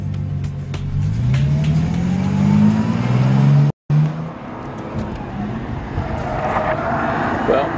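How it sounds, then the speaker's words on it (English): A Bentley Continental Supersports driven hard around the Nurburgring, its engine rising and falling through gear changes with rising pitch sweeps, heard from inside the car while someone talks over it. "driving this new extreme Bentley around this phenomenal track"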